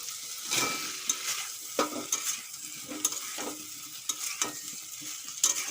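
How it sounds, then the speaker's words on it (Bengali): Soybean chunks and pre-fried papaya are stir-fried together in a pan, with rhythmic spatula strokes scraping over a constant sizzle, close by and with no voices. "সয়াবিনের সঙ্গে পেঁপে দু মিনিট কষিয়ে নিয়েছি"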